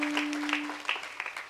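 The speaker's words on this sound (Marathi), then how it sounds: "गोड टाळी महाराजांकरता वाजवा" At a kirtan, an audience claps for the mridang player, a soft irregular patter of hands over a sustained drone, moderately distant.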